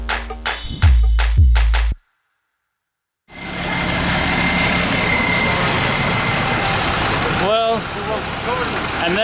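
A bus engine drones steadily and close from inside the cabin, a loud low rumble with rattles, following a few sharp knocks and a short gap of silence.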